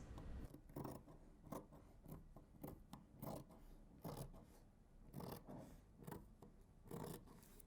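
Scissors snip through light dress fabric being cut on the bias, a quiet close rhythm of repeated crisp cuts with soft rustling of cloth between them, no speech.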